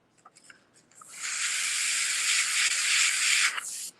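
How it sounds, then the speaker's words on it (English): An airbrush sprays paint in one steady, close hiss lasting a few seconds, after a few soft clicks, then cuts off. "to see how fast airbrushing is"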